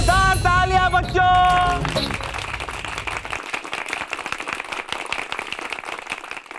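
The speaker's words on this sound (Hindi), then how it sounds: "जोरदार तालियां बच्चों।" Applause from an audience at a comedy stage act begins as music fades, a steady patter of many hands clapping that carries on for several seconds at moderate loudness, with no one speaking over it.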